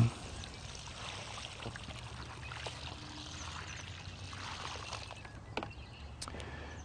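Water pours steadily onto newly planted ground in March, a soft, continuous splashing trickle heard close by and fairly quiet, with no talking over it.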